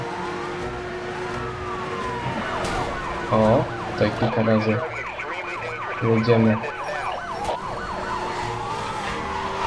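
Police car sirens wail and yelp in a Hot Pursuit racing game amid a car chase over engine noise, with a couple of louder siren bursts up close, while someone talks over them.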